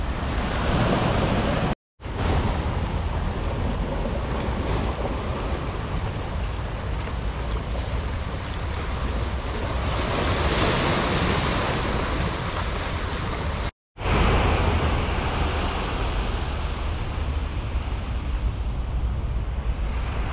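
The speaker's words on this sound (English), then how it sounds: "The Aegean Sea, just outside of Athens," Sea waves wash onto Kalamaki Beach on the Aegean Sea near Athens in late winter, a steady loud surf roar with wind buffeting the microphone, broken by two brief silent gaps.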